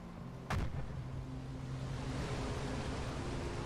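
A depth charge goes off nearby in the submarine game Uboat: one sharp, heavy thud early on, then a long rushing, surf-like wash of underwater noise with a low hum beneath it.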